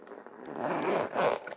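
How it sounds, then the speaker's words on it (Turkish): A pencil case zipper is pulled open in one continuous rasping run, close up and fairly loud, with no voices over it. "Bu kalemlikte bir fermuar var ve bu fermuarı açıyorum."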